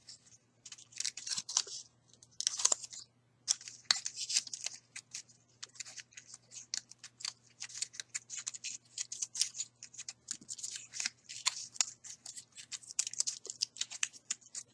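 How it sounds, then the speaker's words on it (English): Paper flower petals are separated and pulled up by hand, making soft irregular crinkles and rustles in close, quiet bursts with short pauses between them, and no voices. "I'm going to take each flower petal and I'm going to separate them. I'm going to kind of pull them up."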